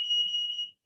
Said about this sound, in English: I got my alarm coming on in the house.